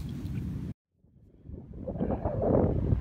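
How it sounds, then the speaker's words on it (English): Gusty wind buffeting the microphone, a low roar that cuts out briefly then builds back up stronger. "it's still quite windy"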